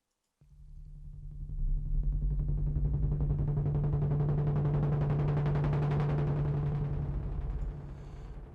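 A black roll sound effect from the Legend HZ synth gives a loud, rumbling, crackling roll with a steady low hum beneath it. It swells in quickly, holds for several seconds, then eases off.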